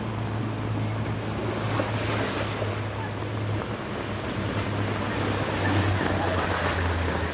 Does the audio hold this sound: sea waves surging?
yes